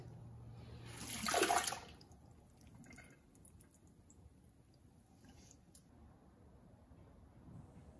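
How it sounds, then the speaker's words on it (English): Toasted sesame makgeolli brew dumped through a filter bag into a bowl: a brief splashing pour about a second long, followed by faint dripping and trickling liquid in a quiet room. "Stir the brew one last time here, and I'll dump it through the filter bag into my bowl."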